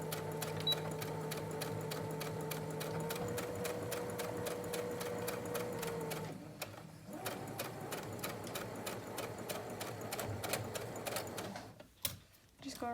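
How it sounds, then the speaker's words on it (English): A sewing machine stitches steadily over yarn with a fast, even mechanical rattle and hum, pausing briefly twice before running again, close and clear. "Put our presser foot down and start sewing."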